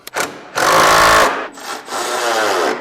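Bolts are tightened on a Honda Acty mini truck's shock extension during a lift kit install, giving two loud, close bursts of a power tool's whirring rattle separated by a short pause.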